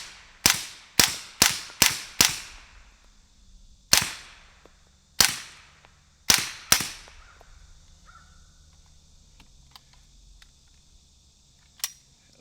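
Uzi with an 8-inch Pike Arms barrel firing through a Liberty Mystic X suppressor: sharp, clipped reports, first a quick string of five, then spaced single shots, with a faint final one near the end.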